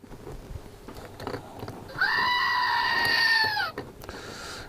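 A goat scream plays from a small built-in speaker, a loud harsh bleat of about two seconds rising out of a faint noisy background.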